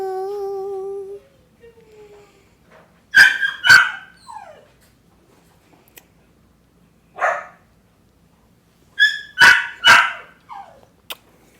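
A puppy barks close by in short bursts of yips and barks separated by pauses, loud against a quiet room.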